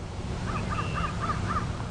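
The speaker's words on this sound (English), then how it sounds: "The red-winged blackbirds and grackles are back." Red-winged blackbirds and grackles call in spring, a run of five short harsh rasping notes evenly spaced over a steady outdoor background, moderately distant and clear.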